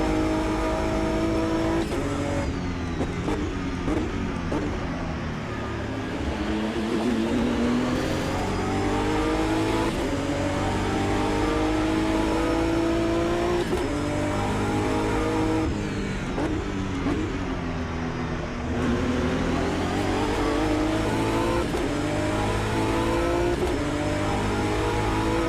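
A BMW GT3 race car engine in the Automobilista 2 racing game, roaring steadily and close, rising and falling through revs and gear changes with occasional tyre squeal, no talk.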